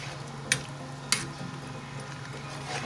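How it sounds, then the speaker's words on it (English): A spoon stirs Achi soup with oha leaf and periwinkle in a pot, giving two sharp metallic taps against a quiet, steady background simmer. "Going to stir."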